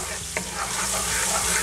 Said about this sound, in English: you're just gonna put that in oil for a bit, release the flavor of the garlic